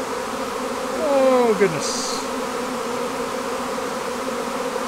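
A honeybee colony buzzing during a hive inspection before a swarm, a dense steady hum with individual bees whining close past, while a person briefly exclaims.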